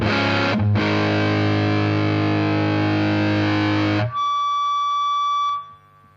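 An electric guitar plays through a Zander Circuitry Cranium distortion pedal. One thick, sustained distorted chord rings loud for about four seconds, then a thinner, brighter sustained note follows and fades to quiet.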